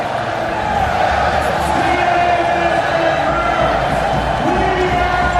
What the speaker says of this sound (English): You just listen any second now to the roars and this. Look at them in the background, those fans.